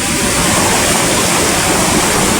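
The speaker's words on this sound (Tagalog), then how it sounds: "Kasi ang laking baha to mga idol." Swollen floodwater rushes in a loud, steady broadband roar, close by and unbroken, with no voices over it.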